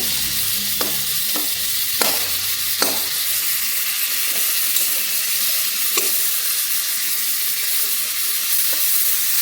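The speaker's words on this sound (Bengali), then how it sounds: "এবার আমার পটল ভাজাটা মানে ভাজাটা ধীরে ধীরে হতে থাকুক" Pointed gourd (potol) fries in a pan with a continuous close sizzle, broken by a few clicks of stirring early on and scattered soft pops.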